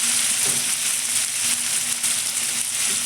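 Ground cumin, coriander powder and chili powder fry in a hot pan with a steady, close sizzle that barely changes, with a few faint scrapes and no talking.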